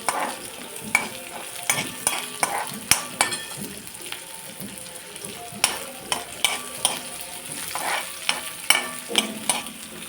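Pieces of cluster bean fry in a hot pan, a constant sizzle punctuated by repeated sharp scrapes and clacks of a spatula stirring against the metal, close and fairly loud.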